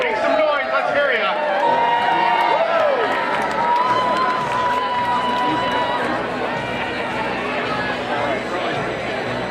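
A baseball crowd at a HarbourCats game fills the stadium with continuous loud cheering, whoops and chatter, a dense, unbroken roar of many voices.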